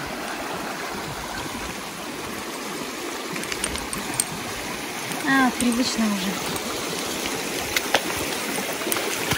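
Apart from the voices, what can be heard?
river stream flowing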